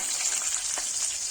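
Garlic, green chillies and lentils with mustard seeds, cumin and dried red chillies fry in hot oil in a pan, giving a steady close sizzle and crackle throughout with no voices.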